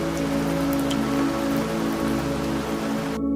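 Steady rain falls on a rainy night, a dense, continuous hiss of drops on surfaces, even and unbroken throughout, with a faint low hum underneath and no voices.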